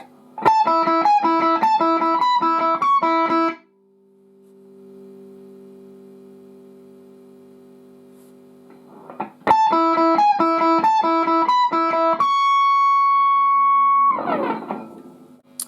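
Slow electric guitar phrases with distinct picked notes, a long sustained held chord in the middle, then more notes ending on a held tone and a scratchy strum.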